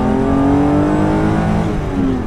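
A BMW M5 E28 sedan with its M1-derived engine revs hard, a loud, close, continuous rising engine note under acceleration, heard on its own.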